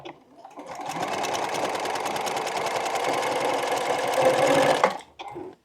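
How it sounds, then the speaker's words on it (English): A sewing machine stitches a quarter-inch seam along a drawn diagonal line on a quilt block, running steadily for about four seconds before stopping, with a brief rustle of fabric after. "And now I'm going to sew 1/4 inch on either side of the diagonal line that I drew."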